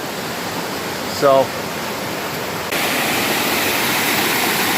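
River water rushes as a broad, steady wilderness roar that grows slightly louder partway through, with a short spoken word near the start.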